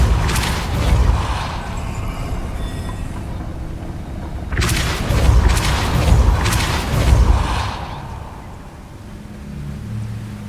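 Spell effects from Hogwarts Legacy play as a series of deep booming whooshes and rumbling bursts, including the Repulsor blast, loud and close over a low game ambience.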